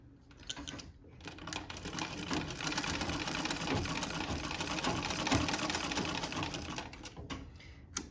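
A Singer Model 15-30 sewing machine runs a zigzag stitch with a rapid, continuous mechanical whirr and clatter, starting and stopping briefly at the edges and held steady and close in between.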